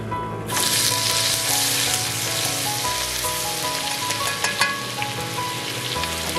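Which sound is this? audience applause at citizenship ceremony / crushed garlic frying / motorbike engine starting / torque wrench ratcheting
crushed garlic frying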